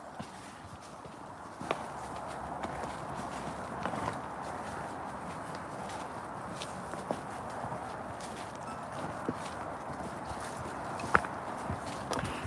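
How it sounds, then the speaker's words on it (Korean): A horse walks along a pine-forest trail on an outdoor trek, its hooves giving soft, fairly regular clip-clop steps at close range over steady rustling ambience. "말 걷는 소리 한번 들어보세요."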